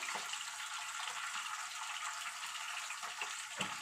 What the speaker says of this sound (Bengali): এইবার পরিমাণ মতো আমি জল দেব জল দিলাম